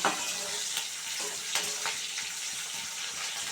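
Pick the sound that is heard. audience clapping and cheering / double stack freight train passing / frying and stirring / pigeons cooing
frying and stirring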